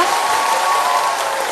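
A studio audience at the Olympia quiz show applauds loudly and steadily, a thick, continuous roar of clapping with no voices over it.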